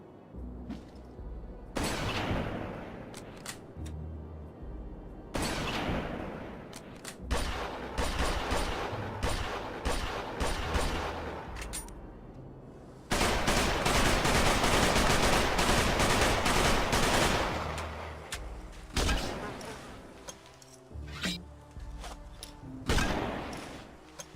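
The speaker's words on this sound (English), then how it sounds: "The guns sound flat and lack any punch." Gunfire in the video game The Heat of War: bursts of automatic weapons and single shots come in dense, repeated volleys, loud and flat, with brief gaps and one long sustained stretch of rapid fire.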